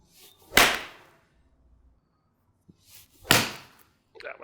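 A golf iron striking a ball, two sharp whooshing impacts a few seconds apart, close and loud, separated by near silence with faint movement between.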